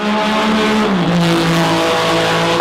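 A Ferrari Formula 1 race car with a V6 engine howls loud and close at a sustained high pitch. Its tone shifts slightly as it revs, with no talk over it.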